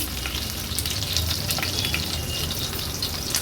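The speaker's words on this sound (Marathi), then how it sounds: "लसूण आणि मिरची तेलावर परतून घेऊया" Crushed, unpeeled garlic cloves sizzle in hot oil, with a dense, steady frying hiss and light crackle that holds close and loud the whole time, no voices over it.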